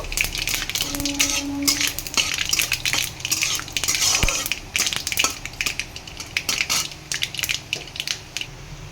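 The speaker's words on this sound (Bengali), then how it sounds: "ফোড়নটাকে ভালো করে ভেজে নেব।" Mustard seeds, dried red chili and bay leaf fry in mustard oil as a tempering, with dense close crackling and popping, irregular bursts and occasional metallic utensil clinks.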